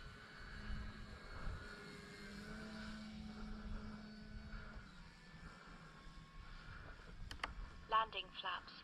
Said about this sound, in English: This is the maiden flight of this big, beautiful plane.